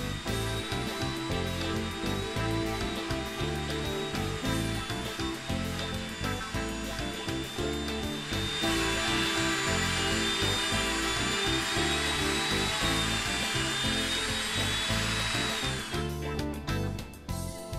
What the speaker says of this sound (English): Here I am milling out the spring cavity, freehand, keeping inside the lines,